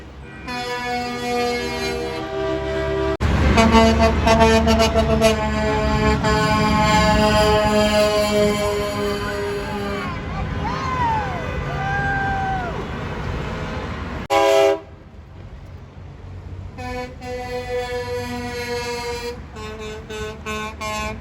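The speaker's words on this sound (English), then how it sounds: "Thousands of trucks, miles and miles long." Trucks of the People's Convoy honking in Washington DC: a loud, sustained chorus of air horns from many trucks, overlapping blasts and long tones at varying distances over traffic rumble.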